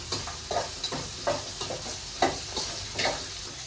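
Spice masala for a hotel-style donne biryani fries and is stirred in a pan, with soft sizzling throughout and a series of short scraping stir strokes at a steady rhythm, close and moderately quiet, with no voices.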